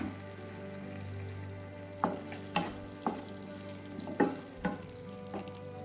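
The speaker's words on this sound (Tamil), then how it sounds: "ஆட் பண்ணி ஒரு கிளறி விட்டுக்கோங்க" Gravy being stirred in a pan after pepper and cumin powder go in, with a low steady simmer underneath and a series of distinct spoon scrapes against the pan, no voices.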